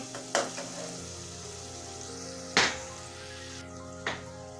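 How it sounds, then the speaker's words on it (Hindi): Curry pakora mixture frying in a pan, a soft steady sizzle running throughout, broken by three sharp stirring clatters, with no talk. "3 मिनट तक से भूनेंगे"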